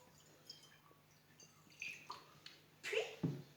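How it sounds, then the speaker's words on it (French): Water poured into a plate makes faint scattered drips that build to a brief, louder splashing trickle near the end, close by in a quiet room. "Dans votre assiette, vous versez de l'eau."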